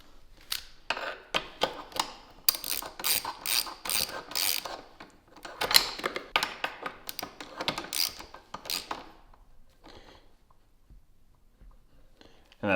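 Ratcheting clicks of a wrench torquing down a bolt on a 2021 KTM 500 EXC motorcycle, with rapid bursts of mechanical clicking in quick strokes that stop near the end, close by with no talk.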